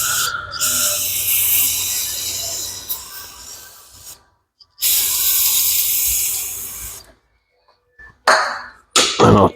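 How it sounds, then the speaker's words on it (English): Several loud, broadband hissing bursts of a freeze-off penetrating aerosol sprayed onto a seized part while resealing a Woods Groundbreaker hydraulic cylinder, each lasting a few seconds, separated by brief silences, then short quick spurts at the end. "I'll spray it down with some freeze off."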